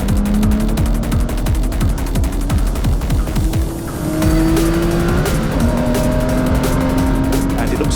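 Porsche race cars battle through the Melbourne hairpin, with loud engines revving up and down under gear changes and tire noise, several cars overlapping close by throughout.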